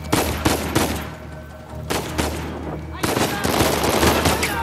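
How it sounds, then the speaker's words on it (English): Rapid gunfire rattles through a riot scene in the video game Uncharted 4, dense bursts of automatic shots and sharp cracks in quick clusters, loud and close, with brief gaps between volleys. "Oh, people shooting. People shooting."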